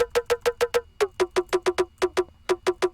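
Bright, tonal percussion clicks in rapid clusters of four or five, sharp and close with short gaps, sounding dry.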